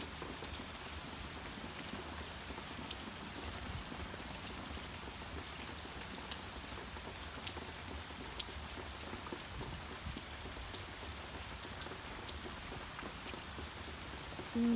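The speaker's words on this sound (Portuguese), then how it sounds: "Muito, muita chuva" Heavy rain falls steadily in the late afternoon, a dense continuous hiss of drops on surfaces that stays even and unbroken throughout, with no voices.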